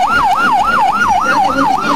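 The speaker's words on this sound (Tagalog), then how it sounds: "Maya-maya, dumating na ang ambulansya." A loud ambulance siren close by at the scene of a tricycle rollover, wailing in a fast, regular up-and-down cycle with steady traffic noise beneath it.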